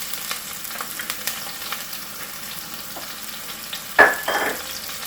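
Quiet crackling and popping in hot oil, then a sudden loud sizzle as onion hits the pan for vegetable pulao, settling into a steady fry.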